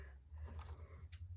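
Two quiet snips of scissors cutting paper, soft and close, over a low background hum.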